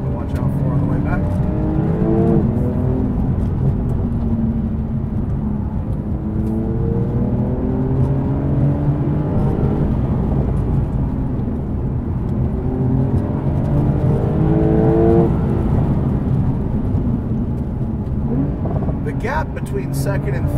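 A 2021 Porsche 911 Turbo S with a 640 hp engine cruises on a road, its engine droning steadily with rising and falling revs across gear changes, under tyre and road noise, with a person talking over it.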